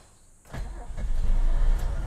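A Mercedes-Benz S-Class with a four-speed manual, left sitting two weeks, cranks and catches, then settles into a loud, steady idle close by, with no voices.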